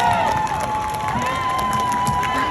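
A convention crowd at a Helluva Boss panel at LA Comic Con cheers and claps in a broad, continuous wash of noise that fills a large hall, loud throughout the short stretch.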